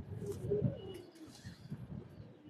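A male pigeon coos in low, throaty pulses at close range on a rooftop loft, the murmuring calls repeating softly against faint background noise.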